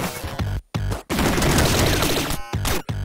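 Gunboots firing in the video game Downwell, rapid bursts of crunchy, dense gunfire in quick volleys broken by brief silent gaps, loud and up front with no talking.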